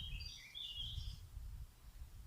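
A few brief, high bird chirps early on over a low rumble of wind, then just the breezy background.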